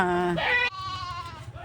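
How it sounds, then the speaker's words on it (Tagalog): Small young goats bleat in quick succession, a couple of wavering cries close by, overlapping slightly with background noise in a field. "kambing na maliliit"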